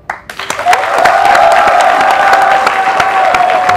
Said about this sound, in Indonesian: Apalagi kalau kamu mendengarkan suara tepuk tangan penonton semeriah ini.